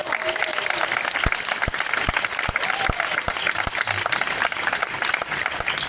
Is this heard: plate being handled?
no